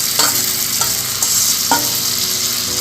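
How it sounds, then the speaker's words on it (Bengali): Marinated river fish (boirali) fries in a pan with oil, salt and turmeric. A loud, steady sizzle runs throughout, and several sharp scrapes and taps come from stirring. "আমি এটাকে ভালো করে নেড়ে চেড়ে কষিয়ে নেব"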